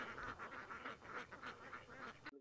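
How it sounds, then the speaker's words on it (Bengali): A large flock of ducks gathered on a wetland in Kishoreganj gives continuous, overlapping quacking and honking calls that sound fairly close. The sound cuts off abruptly at the end, and no one speaks. "দলে দলে হাঁস বসে আছে, দেখছেন?"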